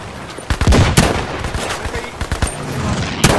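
Rapid bursts of video game gunfire, a mix of single shots and automatic volleys from a boat-based shooter, crack loudly and irregularly through the clip, with faint background voices.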